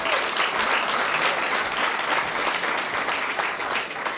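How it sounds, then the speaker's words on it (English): An audience bursts into sustained applause as a guest is invited onto the stage at a formal event with the Canadian Prime Minister and the NATO Secretary General, a broad, even wash of clapping that stays loud throughout. "please, round of applause."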